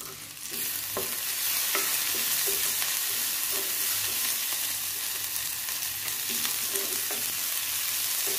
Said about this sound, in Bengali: আমার পেঁয়াজটা হালকা ভাজা ভাজা হয়ে গেছে